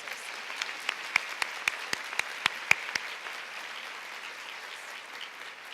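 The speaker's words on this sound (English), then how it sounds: "Let's have a round of applause one more time for our amazing sponsors." Audience at a benefit luncheon claps for sponsors in a sharp burst of loud, separate claps that thins and fades out within about three seconds, leaving quiet room tone.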